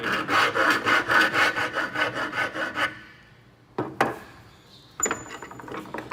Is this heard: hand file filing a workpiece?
yes